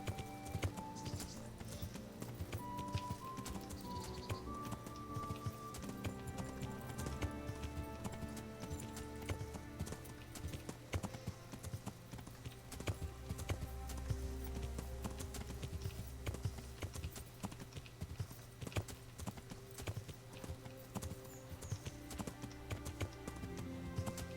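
A horse's hooves clip-clop in the video game Kingdom Come: Deliverance as Henry of Skalice rides, a quick rhythmic tapping that runs steadily under game music and ambience throughout, with no talk over it.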